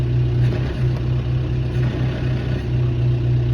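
A John Deere-style 5100 tractor engine runs steadily while pulling out fence posts with a chain, a loud, continuous low rumble with a constant droning hum that holds the whole time.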